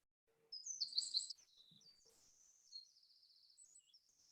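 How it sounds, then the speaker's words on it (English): A wren's song is played back from a digital wildlife map of Ireland: high, rapid chirps and trills, clear and close, running in quick phrases with no talking over them. "you'll be able to hear the sound of the wren."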